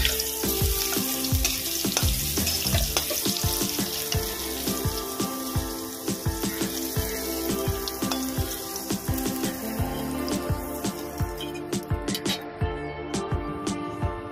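Brinjal frying in hot oil, sizzling loudly and steadily throughout with frequent crackles and pops, close up, and no talk over it.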